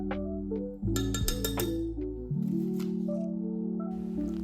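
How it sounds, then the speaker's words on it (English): Stirring a spearmint infusion in a jar brings a few light clinks and scrapes against glass, heard close over a steady low hum. "So now I'm just stirring it"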